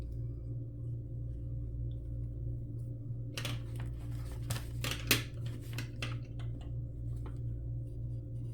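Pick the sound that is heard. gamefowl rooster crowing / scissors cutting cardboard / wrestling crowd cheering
scissors cutting cardboard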